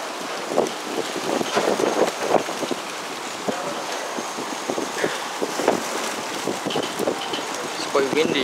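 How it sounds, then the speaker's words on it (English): Wind buffets the microphone in a steady broadband rush at a golf club, with gusts rising and falling; brief voices and scattered noises come through underneath. "Quite windy here."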